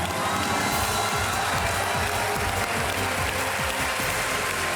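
Studio audience on the KBC game show applauding steadily after a contestant wins 3,20,000 rupees, a dense, even patter of clapping with a rhythmic mechanical ticking underneath.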